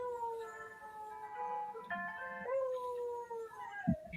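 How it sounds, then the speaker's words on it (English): Buddy Mercury, a dog, howls along to keyboard notes: long, wavering tonal howls slide up and down over the playing, ending with a short bark-like burst near the close, moderately near and clear. "Viral furry singing sensation Buddy Mercury stopped by the CBS 17 studio, and he played his keyboard and gave us a little tune."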